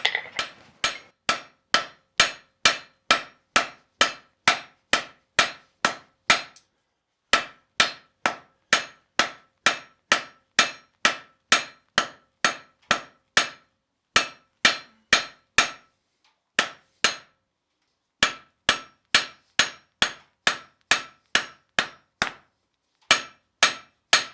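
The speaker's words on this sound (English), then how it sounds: "I want half face blows, so the hammer is half on, half off" Steady rhythmic hammer strikes ring on an anvil while forging a cooking fork, half-face blows pushing down a shoulder, dozens of sharp blows in quick runs broken by short pauses, loud and close with no talking.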